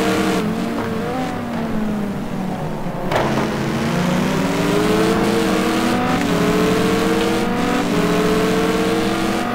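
A Ford GT2 race car roars flat out down the straight at Oschersleben, its engine note climbing steadily through the gears in a loud, sustained wail that stays close throughout.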